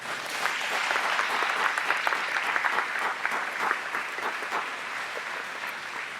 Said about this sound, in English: they really deserve a round of applause as well.